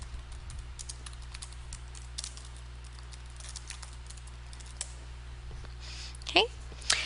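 Soft, scattered clicks of typing on a computer keyboard while entering a document title in Word 2010, faint under a steady low hum, with a couple of louder clacks near the end.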